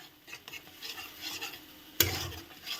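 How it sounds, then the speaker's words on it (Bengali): Spice paste is stirred and fried in a pan, giving a faint sizzle with soft scraping strokes and one sharp clink of a utensil against the pan. "এটাকে ভালো করে নেড়ে নেড়ে কষিয়ে নেব।"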